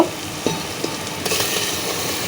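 Meat dropped into a frying, oil-rich spice mix, giving a steady hiss of sizzling with a few soft clinks of stirring over a couple of seconds.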